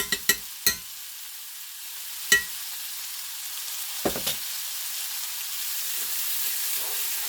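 Peach preserves stirred in a hot pan give a steady, even sizzle and hiss, broken by a few sharp utensil clicks and taps against the pan early on and again midway.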